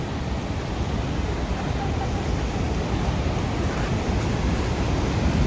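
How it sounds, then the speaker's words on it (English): A waterfall at the Grand Canyon of the Yellowstone roars as a loud, steady broadband rush heard from the bottom of a trail, constant and unbroken throughout. "Look at that waterfall."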